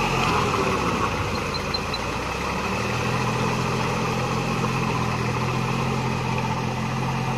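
A Deutz Fahr Agrolux 50 4WD tractor works through deep mud, its engine giving a steady, fairly loud drone throughout with no talking.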